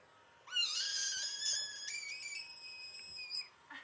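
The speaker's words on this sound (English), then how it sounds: "Screaming frog. Put it up to the mic." A screaming frog recording plays from a phone held up to a microphone: one long, shrill, wavering cry lasting about three seconds, fairly close and alone against quiet background.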